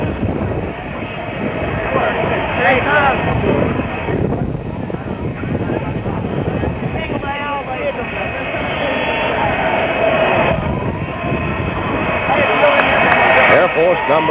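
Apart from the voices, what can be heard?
Air Force One jet airplane arriving at Dallas airport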